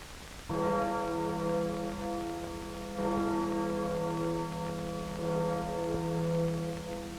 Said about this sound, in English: That was the Freedom Bell.